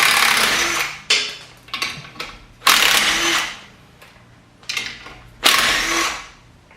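A power tool on an all-wheel-drive Honda's clutch cover whirs in loud, close bursts, about four short runs that spin off pre-loosened bolts, with brief pauses between them.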